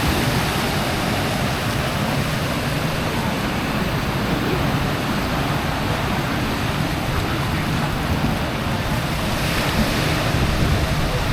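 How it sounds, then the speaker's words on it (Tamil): Steady, loud surf and wind at Tawean Beach on Koh Larn, a continuous wash of breaking waves with wind buffeting the microphone and no voices. "நல்ல ஒரு அருமையான பீச் இது."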